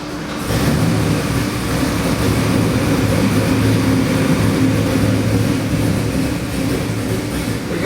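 A marine LS 441 cubic-inch stroker crate engine idling steadily after a brief quiet start, with a continuous low, even rumble close by and no talk.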